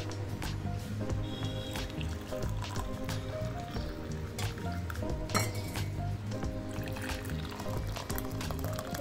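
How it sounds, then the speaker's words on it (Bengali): Tea is poured from a pot into a cup, making a continuous liquid stream with light clinks of crockery. The pour is close and steady for several seconds, with no one talking. "চাটা শুধু কাপে ঢেলে নেবো"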